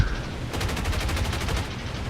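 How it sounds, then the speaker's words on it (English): A Spitfire's turret and primary guns fire in the War Thunder video game, a rapid, even burst of gunfire starting about half a second in and rattling on steadily over a low engine drone. "My turret's shooting at them, but I'm using primary guns on this Spitfire"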